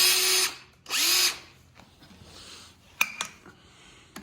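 Power drill whirring in short bursts as it removes the last bolts from a car in a garage during an LS engine swap, two loud high-pitched runs followed by faint clanks and a couple of sharp metallic taps.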